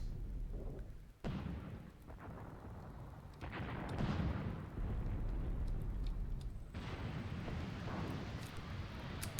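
Artillery fire and explosions in the WWII strategy game Graviteam Tactics, during the Second Battle of Kharkov. Heavy distant booms and rumbling impacts come one after another, with sudden sharp blasts rising over a low, continuous battlefield roar and no talk.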